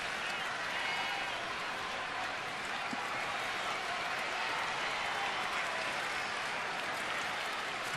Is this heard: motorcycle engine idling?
no